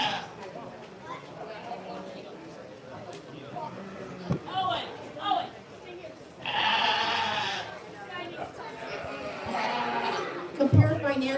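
Sheep bleat repeatedly at a 4-H fair sheep show as ewes are cleared from the ring, loud nearby calls over steady crowd chatter and occasional hoof clatter.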